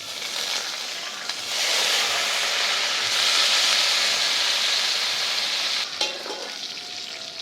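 Mustard seeds and fennel seeds sizzle and crackle steadily in hot coconut oil for a Jaffna crab curry, a loud continuous fry with a brief stir and clatter near the end.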